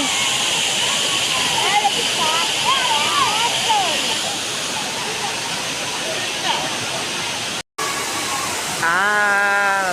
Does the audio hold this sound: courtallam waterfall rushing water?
yes